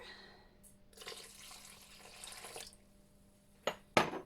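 A short burst of tap water running into a kitchen sink while making sourdough bread, followed by a couple of sharp clinks, quiet and close.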